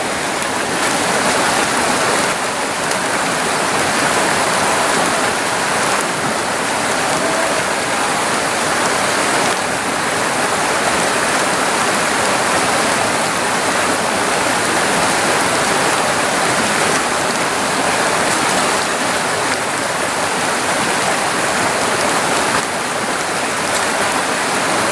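Stream water plunges over a big rock in a Pennsylvania brook trout creek, a dense, unbroken rushing roar that is loud and close and never changes, with no voices.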